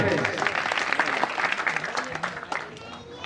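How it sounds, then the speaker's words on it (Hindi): Crowd at a village bhajan evening in Ghughwasa, Itarsi, claps loudly and steadily. The applause comes in a dense wash that tapers slightly toward the end, with some voices mixed in. "एक बार जोरदार ताली"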